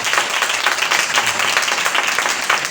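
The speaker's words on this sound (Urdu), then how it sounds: "خدا کے کلام کے لیے زوردار تالیاں۔" Congregation at an evening church meeting applauding loudly, dense steady clapping from many hands throughout with no voices over it.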